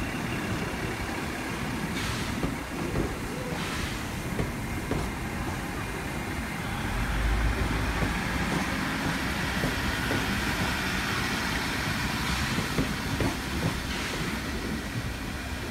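Endeavour train set N1 pulls into a platform at a transport heritage expo, a steady loud rumble of wheels and running gear with faint clicks, continuous throughout and not masked by talk.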